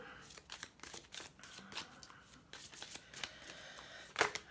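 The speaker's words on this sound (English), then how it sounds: "I'm gonna pull a card for you, Gabby." Oracle cards being shuffled and one pulled from the deck, soft close riffling and flicking with a sharper snap near the end, quiet and intimate.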